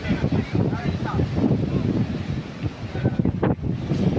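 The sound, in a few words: strong wind blowing near the sea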